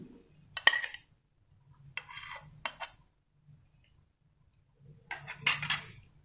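Rasmalai dough being mixed by hand with an added egg, giving soft squelching and rubbing in several short bursts with quiet pauses between them, close up.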